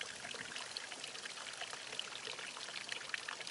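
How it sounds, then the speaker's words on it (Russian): A decorative pump-driven fountain, shaped like an eagle, murmurs with a soft, steady trickle and splash of pouring water, faint and continuous with no voices. "Причем работает бесшумно, создается только приятное журчание воды."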